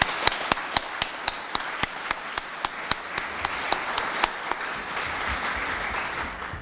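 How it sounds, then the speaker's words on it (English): Applause at a police department awards banquet honoring officers, sharp distinct claps standing out over a steady wash of clapping from the room, sustained and even throughout. "So let's give them all again a round of applause"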